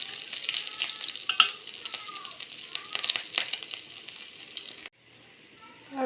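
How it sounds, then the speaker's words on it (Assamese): Panch phoron, dried chilli, ginger and garlic frying in oil in a kadai give a bright crackling sizzle with spoon stirs, fading to a quieter hiss near the end. "মই কেৰাহীখন পাতি অলপ তেল দি ল'লোঁ আৰু তাত দিলোঁ কেইটামান পাঁচফোৰণ, শুকান জলকীয়া"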